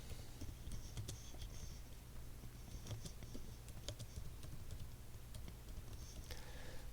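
Computer keyboard typing, a steady run of close clicking keystrokes over a constant low hum, with no talking.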